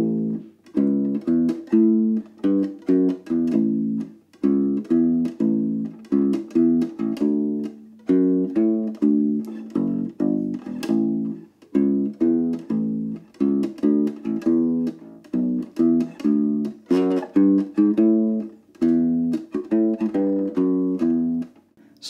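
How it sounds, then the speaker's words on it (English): A ukulele solo played on a U-Bass, with rhythmic, bouncy plucked notes in a steady groove, clear and close, running continuously without voices. "The ukulele solo sounds like this."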